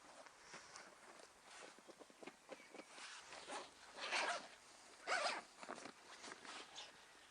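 A zip on a Blaze pannier of a BMW S1000R is pulled open around the bottom to expand the bag from 14 to about 21 litres, with two loud, distinct rasping zip pulls and softer handling rustles between them.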